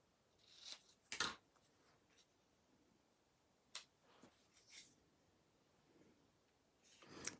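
Scissors snip card stock in a few sharp, quiet cuts scattered over a hushed room, with short crisp clicks and rustles between gaps of near silence.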